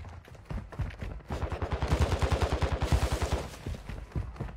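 Rapid automatic gunfire from the video game Fortnite rattles in a fast, even burst lasting several seconds, preceded by a few scattered shots, loud and close with no voices.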